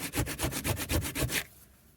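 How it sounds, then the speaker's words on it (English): Hand sanding of a small wooden fairy door part, a run of about eight quick, steady rasping back-and-forth strokes close up, then stopping to near quiet. "More sanding."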